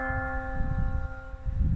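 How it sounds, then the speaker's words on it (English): A church bell in a town park, a single struck tone with a long ringing hum that slowly fades over a low rumble of outdoor noise. "The sound of the bell."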